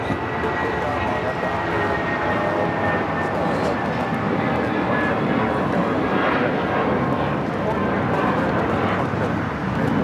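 A Delta Airlines jet takes off at LAX, its broad engine roar steady and loud throughout, with talking over it.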